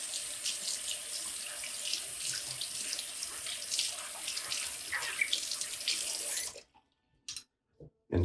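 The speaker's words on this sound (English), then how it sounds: "so I'm going to just wash off this spoon real quick." Water from a running tap splashes steadily over a spoon being rinsed in a sink, a close, continuous hiss and patter that cuts off abruptly near the end, followed by a few brief handling knocks.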